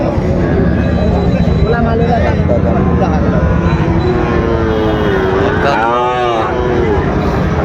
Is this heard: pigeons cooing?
no